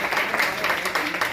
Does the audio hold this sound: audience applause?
yes